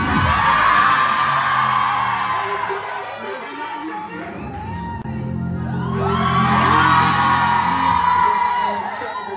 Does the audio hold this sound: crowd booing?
yes